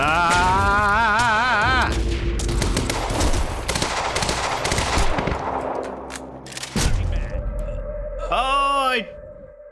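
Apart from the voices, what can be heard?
explosion and gunfire in video game Quantum Break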